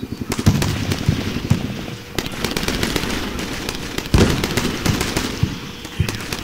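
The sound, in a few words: RPG, rocket and grenade fire in video game Combat Mission: Shock Force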